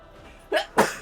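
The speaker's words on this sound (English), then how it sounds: "I need to sneeze." A single close sneeze, a short intake followed by a sharp explosive burst, alone in a quiet room.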